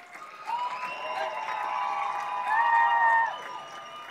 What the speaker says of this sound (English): Give your teachers and administrators a round of applause.